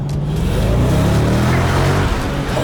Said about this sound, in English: it's the first car I've had that's accelerated that fast